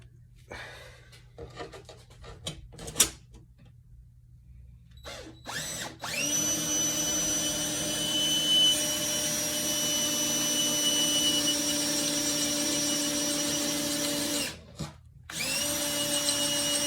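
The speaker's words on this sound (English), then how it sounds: "we're going to drill the other 2 holes that I marked with a Sharpie" A drill bores the marked holes through a 10-inch chef knife blank. Quiet handling clicks come first, then a loud, steady motor whine runs continuously, stops briefly, and starts again near the end.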